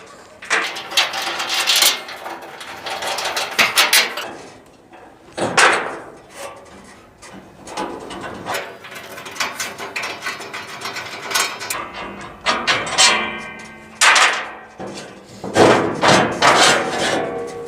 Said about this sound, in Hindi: इसकी ये हाफ चौक प्लेट खोल दी जाए